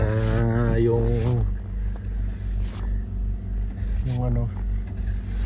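Car engine idling to warm up in freezing cold of about minus thirty, a steady low rumble throughout with a person talking over it in two bursts near the start and later.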